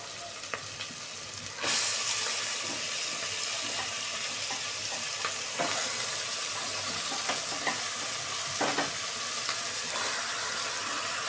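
Marinated chicken hits hot oil in a pan and settles into a loud, steady sizzle, with occasional clinks and stirring noises over the continuous frying.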